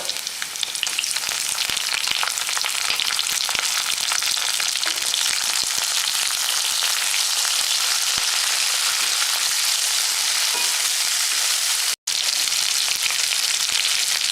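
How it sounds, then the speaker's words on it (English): Tomato sizzling in hot oil with curry leaves in a frying pan, a steady loud crackling hiss that runs throughout and cuts out briefly near the end. "fry it. Now add tomato."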